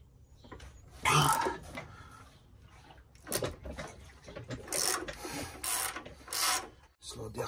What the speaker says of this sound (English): Main axle nut 3/4 inch.